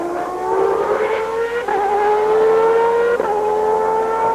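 Alain Prost's Formula One car howls past during practice at the 1993 French Grand Prix, a loud, high engine note climbing steadily and broken by two crisp upshifts, with no one talking.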